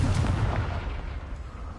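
The Confringo spell in the Hogwarts Legacy video game lands as a fiery blast, a rumbling boom that rolls off and fades over about two seconds, with no talk.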